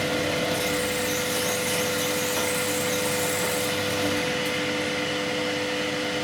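A steady, high-pitched whine of a half-inch slot drill milling into metal runs unbroken, loud and close, with a constant motor hum underneath.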